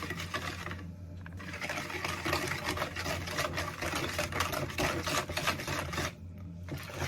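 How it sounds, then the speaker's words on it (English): Egg and vanilla extract batter for mini cinnamon muffins being mixed thoroughly in a bowl, giving a steady, close, continuous rapid whisking and clatter that runs throughout with no talk. "I'm gonna mix this thoroughly till it's well combined"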